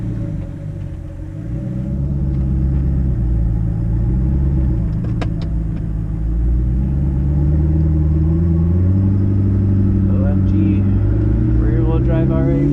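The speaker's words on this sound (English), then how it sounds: "I have the windows a little pop so you guys can hear the car." A twin-turbo rear-wheel-drive Audi R8 driven on the road with the windows cracked, its engine a loud, continuous low rumble with shifting pitch as it pulls and revs, heard from inside the cabin.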